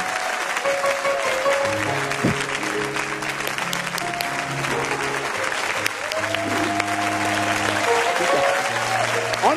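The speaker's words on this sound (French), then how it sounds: "On acclame la parole de Dieu." Church congregation clapping loudly and continuously at a worship service, a dense, sustained applause that stays even throughout, with sung or sustained voices and tones mixed underneath.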